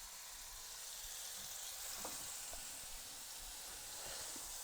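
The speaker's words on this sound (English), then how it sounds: "I'll add the beef patties to the hot ghee in the pan." Beef patties frying in hot ghee in a pan give a steady, even sizzle throughout, fairly faint, with a few soft clicks and no talking.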